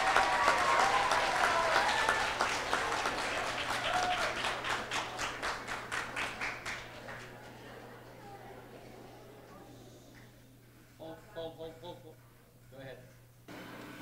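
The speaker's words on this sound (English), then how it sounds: "Please give him a nice round of applause" Students, staff and families at a school Arbor Day event applaud a grade 6 student, with dense clapping that thins into separate claps and fades out, followed by faint voices.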